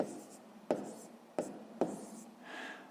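Handwriting math sums with pen on paper, quiet close scratching strokes broken by three sharp taps as digits are jotted, a soft rustle at the end.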